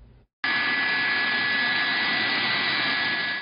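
CAL FIRE firefighting aircraft engines at McClellan Airfield roar in a steady, loud, close whine with a sustained high tone, starting abruptly after a brief pause and holding constant throughout.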